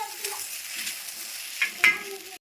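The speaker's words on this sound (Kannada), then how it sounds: "ಎಣ್ಣೆ ಹಚ್ಚಿ ಹಂಚಿನಾಗ ಬೆಂಡೆಕಾಯಿ ಹುರ್ಕೊಳತ್ತೀವಿ ನೋಡ್ರಿ" Okra fries on an oiled flat griddle pan with a soft, low crackle, broken by several light scraping and clinking strokes of a utensil near the end.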